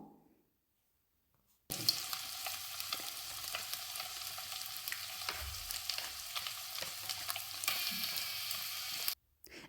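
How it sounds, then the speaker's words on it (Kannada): Boiled eggs fry in hot oil in a pan with salt, turmeric and red chilli powder for a village-style egg curry, a loud, close, steady sizzle that starts abruptly after near silence and cuts off near the end. "ಒಂದು ಪ್ಯಾನ್ಗೆ ಆಯಿಲ್ ಹೀಟ್ ಆದಮೇಲೆ ಬಾಯ್ಲ್ ಮಾಡಿರೋ ಎಗ್ನ ಆಯಿಲ್ಗೆ ಹಾಕಿ ಫ್ರೈ ಮಾಡ್ಕೊತೀನಿ."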